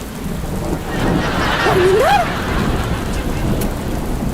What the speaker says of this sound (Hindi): दिल्ली में तूफानी बारिश शायद रात भर चलेगी।